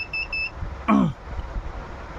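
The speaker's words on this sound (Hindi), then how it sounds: "ये हमारा बजर।" The buzzer on a Microtek 16-amp charger circuit board gives two short, high electronic beeps in quick succession, followed by a brief falling chirp over low background noise.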